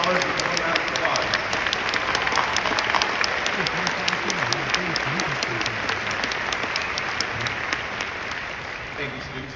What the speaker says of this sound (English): Please give all these scholars a warm round of applause.